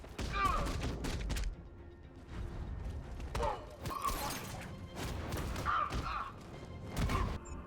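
A bomb destroyed in Batman Arkham Knight with a controlled explosion triggered by a power winch, heard as a cluster of crashing, thudding blasts and debris clatter in several bursts, with quieter creaking gaps between them.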